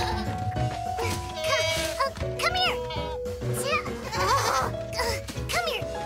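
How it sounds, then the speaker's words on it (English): Goats bleating on a farm in a Curious George cartoon, with several high, wavering calls over a busy mix of music and children's voices. "George wasn't sure they could handle the goats after all"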